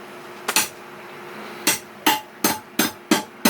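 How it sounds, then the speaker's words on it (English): Hammer strikes tapping something in aboard a sailboat: one early blow, then a steady run of five sharp, close knocks. "now I'm going to use my Flintstones hammer to beat it in"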